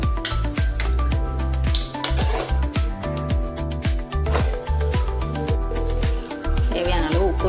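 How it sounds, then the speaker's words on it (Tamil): A metal spoon stirs vegetables in a cooking pot, making repeated clinks and scrapes against the pot in an irregular rhythm, close and fairly loud throughout. "எல்லா காயும் போட்டுட்டு கிளறி கொஞ்சம் நேரம் வேக விட்டுறலாம்."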